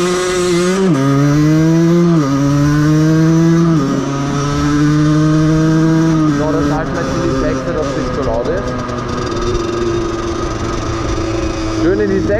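Small Aprilia 50cc moped engine revving hard off-road as the rear wheel spins, a loud buzzing two-stroke whine rising and falling in pitch across several surges, close and continuous throughout.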